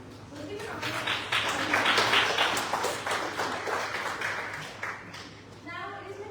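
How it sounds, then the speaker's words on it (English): An audience claps steadily for a few seconds in a workshop room, a dense wash of applause that swells early, holds, then thins out toward the end. "Let's give him a round of applause."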